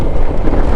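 Strong gusty wind buffets a motorbike rider on the road, a dense, rumbling roar of wind noise that fills the short moment without a pause.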